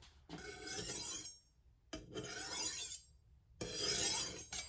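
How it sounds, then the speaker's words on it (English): Steel knife blade drawn repeatedly along a honing rod: three long, bright metallic scraping strokes, each lasting about a second, separated by short pauses, close and clear with no talking. "So what a honer does is you hold it down."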